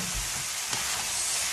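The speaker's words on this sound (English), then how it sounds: "Stir again my sauce." Picadillo meat sauce with potatoes simmering and being stirred in a pot, a close, quiet, steady sizzling hiss with a brief soft scrape.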